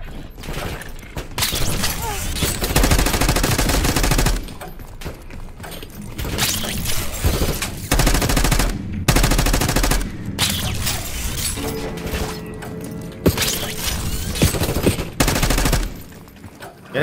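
Heavy automatic gunfire in Call of Duty: Black Ops 6, with long loud bursts of rapid shots broken by short pauses and scattered booms and mechanical clatter, all close and dominant.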